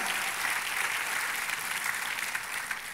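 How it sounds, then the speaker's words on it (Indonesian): Members of a church congregation clap enthusiastically for God during a sermon, a loud, even burst of applause from many hands that carries steadily throughout with no speech over it. "Tepuk tangannya yang meriah buat Tuhan kita."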